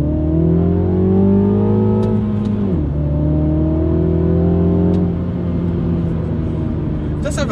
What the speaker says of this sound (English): Have a very nice sound to it as well, that 2-litre engine